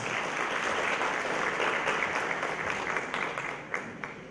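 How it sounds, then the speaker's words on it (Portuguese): A national education conference audience gives sustained applause, a dense, fairly quiet wash of clapping that gradually thins toward the end, leaving a few scattered claps. "Salve de palmas."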